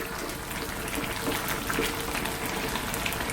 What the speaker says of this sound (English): you can just top this up with a little bit of cold water now